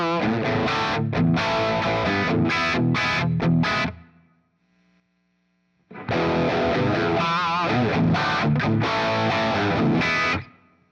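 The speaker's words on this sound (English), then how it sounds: "when EL34s get hotter, they add a nice distortion that probably you're not going to get from 6L6s" A Mesa Boogie Stiletto Deuce Stage II tube amp running EL34 power tubes plays loud, saturated distorted electric guitar in two long bursts of chords and notes. A few seconds of near-silence with a faint hum separate the bursts.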